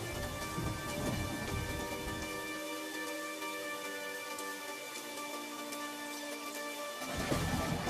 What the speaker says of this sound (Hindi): तभी अचानक से जोर का तूफान आया